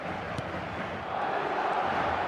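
A football stadium crowd, a broad, steady roar that swells and grows louder in the second half, with a commentator's voice faintly underneath.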